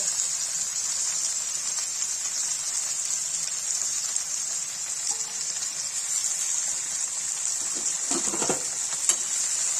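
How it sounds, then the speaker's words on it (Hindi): Okra (bhindi) with salt and lemon frying in a pan, a continuous loud hissing sizzle with occasional scraping stirs near the end. "इसे चला देंगे और जब तक ये भूनेगा तब तक इसको ढक के रख देंगे"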